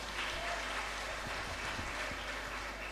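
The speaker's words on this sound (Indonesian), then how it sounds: "Mari kita tepuk tangan yang sangat luar biasa" An audience at a Christmas celebration claps steadily and densely for several seconds, a full room of applause over a low hum, with no one speaking.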